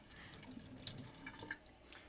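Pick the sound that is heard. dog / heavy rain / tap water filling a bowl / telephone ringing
tap water filling a bowl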